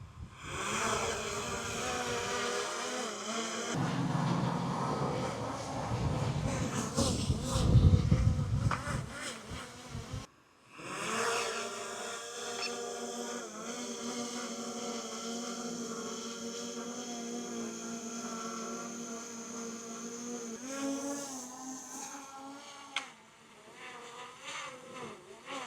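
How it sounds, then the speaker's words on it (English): A DJI Mini 4 Pro drone's propellers produce a steady, insect-like high buzz, loud and close at first with some rumbling handling noise, then a thinner, sustained whine with shifting pitch as it hovers farther away. "Now we swap for the Mini 4 Pro."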